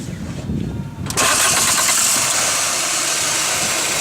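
A car engine cranks briefly and catches on the first try, then settles into a loud, steady idle right up close, with a faint voice audible in the quiet moment before it fires.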